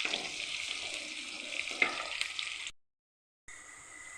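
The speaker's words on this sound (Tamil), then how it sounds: "ப்ரௌன் கலர் ஆகிற வரைக்கும் வதக்கி எடுத்துக்கணும்" Eggplant sautés in a pan over low heat with a soft, close sizzle and occasional stirring scrapes, broken by a brief silent gap before the quiet frying resumes.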